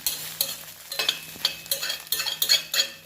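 Egg sizzles over bread in a frying pan as a spatula scrapes and flips it, producing a quick run of close, rhythmic scraping strokes over a light frying hiss.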